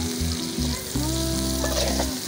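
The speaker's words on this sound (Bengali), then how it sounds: "আমাদের কিন্তু ভালোভাবে নাড়াচাড়া করতে হবে।" Date and tamarind pickle with spices is stirred in a hot pan, giving a loud, continuous sizzle and bubbling with a low steady hum, close up and with no speech.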